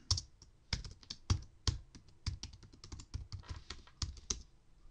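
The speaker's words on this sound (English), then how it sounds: "So I'm going to type it now." Someone types a password on a computer keyboard, a quick uneven run of sharp close key clicks with a few louder strokes and no talking.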